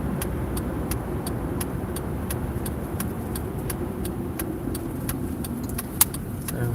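Cars pass at a gas station, a steady low road rumble with engines idling, and a series of light metallic clicks and jingles tick over it at irregular intervals, with no voices.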